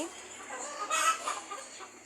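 Soft clucking from native chickens kept in cages, a busy low murmur of hen calls with a few brighter squawks, fairly close and steady throughout.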